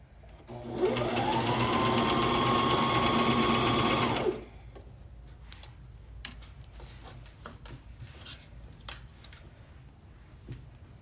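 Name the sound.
sewing machine stitching fabric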